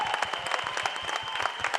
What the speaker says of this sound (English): So please give a big round of applause to Ojas.